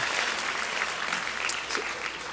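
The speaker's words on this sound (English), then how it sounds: "Another round of applause for these people in our lives." A graduation ceremony crowd at De La Salle University claps continuously, a dense, steady patter of many hands at moderate loudness with no voices over it.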